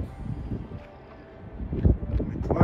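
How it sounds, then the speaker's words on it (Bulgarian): Strong wind buffets the microphone at night beside a parked truck, a steady low rumble that swells into louder gusts toward the end, with no talking. "много силен вятъра"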